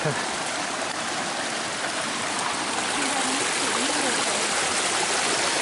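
Creek water rushing steadily where Richard Creek meets Tinstone Creek, a continuous broadband flowing roar close by, with a voice faintly speaking over it.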